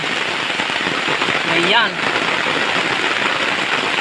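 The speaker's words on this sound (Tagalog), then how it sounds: "Ang lakas ng ulan." Heavy rain from a typhoon pours steadily over a forested area, a dense continuous hiss with someone speaking briefly partway through.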